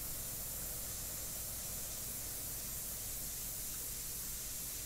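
An airbrush hisses steadily while spraying paint onto a portrait, a continuous soft, even spray noise close by with no talking.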